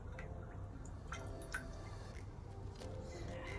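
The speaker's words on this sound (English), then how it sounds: "So I'm pouring our lye solution into the oil." Lye solution is poured into oil while making a transparent glycerin soap base with coconut milk. The liquid makes a faint, close, steady trickle and spatter that runs throughout with no talk.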